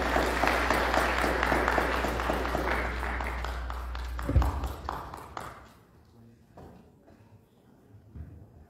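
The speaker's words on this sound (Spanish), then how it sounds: "Lo recibimos con un fuerte voto de aplausos." Audience applause in a university seminar hall for the dean of the Faculty of Civil Engineering and Architecture, loud and steady under a low hum, then breaking off into scattered claps and quiet room noise.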